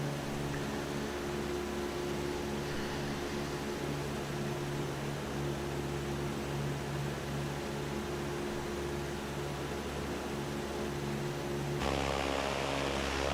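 A propeller aircraft engine drones steadily in a flight simulator game, a constant buzzing hum with no talk, shifting slightly in tone near the end.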